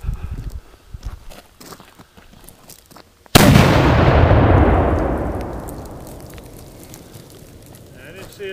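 A large black powder thunder mug mortar fires once, a sudden loud close blast that rolls and decays slowly over several seconds, with faint movement and handling noises before it.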